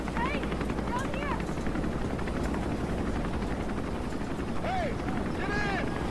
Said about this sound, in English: we found the helicopter